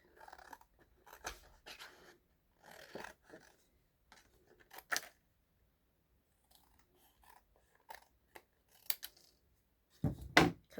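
Scissors snip through folded craft paper for layered embellishments: a handful of short, quiet, crisp cuts spaced irregularly across near-silence, close to the listener.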